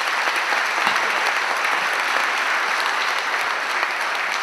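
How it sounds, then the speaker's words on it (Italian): Audience applause from a crowd at an Italian choir event, a steady dense roar of clapping that holds loud and unbroken throughout, with no talk over it. "un applauso"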